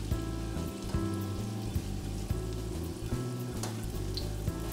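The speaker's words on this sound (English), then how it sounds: "we'll just gently start frying our egg rolls" Avocado egg rolls sizzle and crackle steadily in hot oil in a pan, a dense continuous frying hiss with a low hum underneath and no talking.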